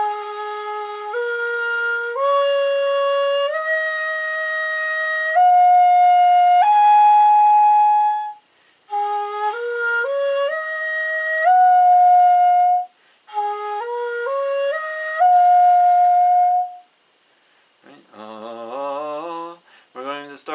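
A hitoyogiri, a short Japanese end-blown bamboo flute, plays the basic Oshiki mode progression as clear stepwise rising notes in three phrases, solo and close, ending with a few breathy flourishes.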